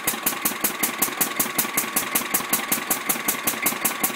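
A Listeroid 6/1 single-cylinder diesel engine runs under load from a 3 kilowatt heater, exhausting through a cone-type muffler, giving a steady, even thump at about four beats a second, close by with no talk.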